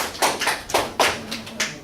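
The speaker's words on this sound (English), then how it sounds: "Let's clap it up for our model here." A classroom audience claps for a model, a small group of hands giving sharp, uneven claps in a quick rhythm for about two seconds, close and fairly loud.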